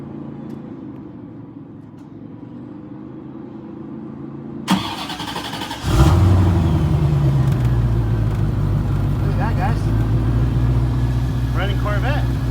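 A 1988 Chevrolet Corvette with a newly replaced in-tank fuel pump cranks briefly, fires up loudly and settles into a steady idle, with a voice speaking near the start.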